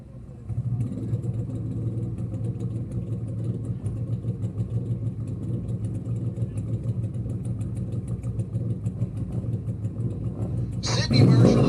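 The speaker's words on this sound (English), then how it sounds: "Great drag race there, 674 to 678." Drag racing cars at the Man Cup event produce a loud, continuous engine roar with steady rumbling and a sharp burst near the end, under an announcer's voice.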